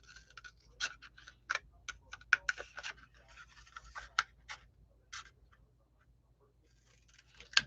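Close, quiet snips and scratchy cuts through material for gnome boots, a series of irregular sharp clicks spaced across the clip, with a brief pause before a final cut.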